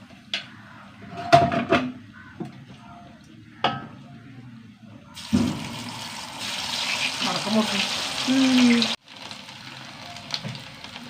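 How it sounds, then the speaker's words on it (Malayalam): Chilli chicken frying in hot oil, a loud steady sizzle rising in the middle after scattered kitchen clatter and clinks, then cutting off abruptly into quieter pan sounds; a voice speaks now and then. "വറുത്ത് കോരി എടുക്കണം"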